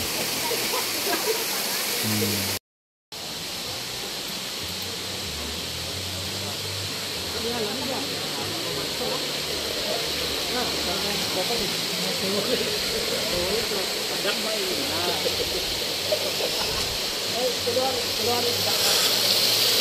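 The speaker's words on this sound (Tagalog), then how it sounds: "Maganda kasi ito kasi running water. Malinis siya kasi umaagos yung tubig." Water at Kakawayan Falls in Infanta, Quezon rushes continuously in a loud, steady roar, like a fast-flowing stream or falls, with no pauses except one brief cut.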